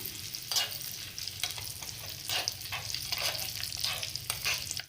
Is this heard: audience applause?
no